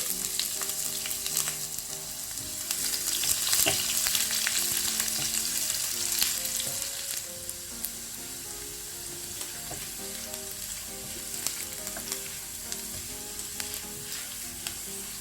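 Dried red chillies and sliced shallots frying in oil for a drumstick leaves dal curry: a loud continuous crackling sizzle with stir scrapes, busier early on, then slightly quieter and steady, close and without talking.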